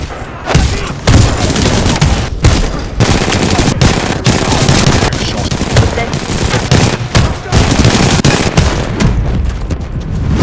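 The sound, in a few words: weapon gunfire in video game Titanfall 2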